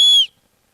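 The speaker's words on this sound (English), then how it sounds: "It's a two-tone whistle." A two-tone emergency whistle from an Adventure Medical Kit SOL Origin gives one short, loud, shrill blast lasting about a quarter second, then cuts off into silence.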